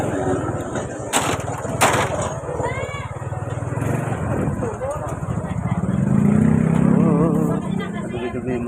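A motorcycle engine runs steadily around the old market in Taytay, a continuous mid-level hum with a brief louder surge near the end, while someone talks over it and sharp clatters come from the surroundings.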